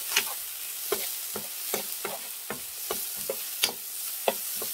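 Dried shredded squid being stir-fried in a pan over lowered heat, with sharp scraping strokes of a spatula repeating about twice a second over a soft, steady sizzle, close up and with no talking.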